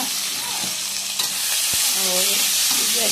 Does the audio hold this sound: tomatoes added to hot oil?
yes